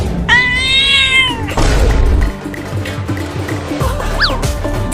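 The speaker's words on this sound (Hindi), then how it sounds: "वो रही एक बिल्ली" A cat gives one loud, close meow, followed by a busy mix of thumps and other noises.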